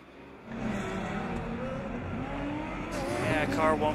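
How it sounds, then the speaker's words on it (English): A Formula Student race car passes by on the track during an endurance event, its engine note rising and falling as it goes by, heard under a commentator talking. "So I've got car number 48 coming past."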